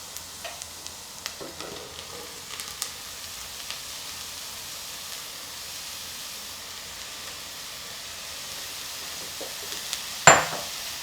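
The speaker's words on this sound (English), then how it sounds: "you're going to add the butter and the mushrooms" Chopped mushrooms and butter sizzle in a pan with a continuous soft frying hiss, scattered light stirring clicks and a sharper clatter near the end.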